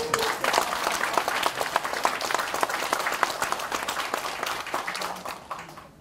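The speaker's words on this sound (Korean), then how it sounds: "박수 한번 보내주십시오." Audience applause at a special lecture in a hall, steady dense clapping from many hands that holds for several seconds and tapers off at the end.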